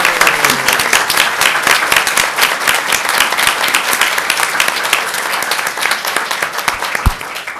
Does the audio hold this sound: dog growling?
no